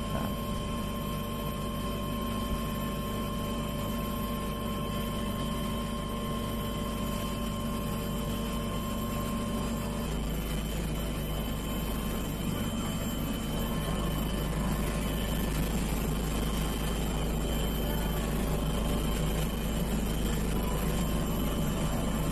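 A helicopter flies over coal mining sites in Kalimantan, its steady rotor and engine drone continuous and close for the whole stretch, with no voices.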